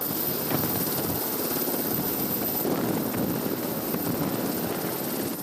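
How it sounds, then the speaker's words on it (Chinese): A UH-60M Black Hawk military helicopter comes in to land at the aviation sports field of Feng Chia University in Taichung, a loud, continuous rotor-and-engine roar that holds steady throughout with no talk. "2架直升机慢慢飞进台中逢甲大学的航空运动场，了后由 UH-60M 乌鹰直升机领航，先进行降落任务。"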